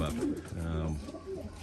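Racing homing pigeons cooing in an aviary, a few soft, low rolling coos close by over faint background rustle and noise.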